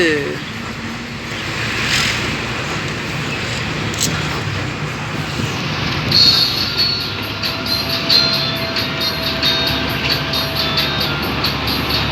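Broad rumbling noise of a train at Avissawella railway station, Sri Lanka, with metallic squeals and clatter and a person talking over it.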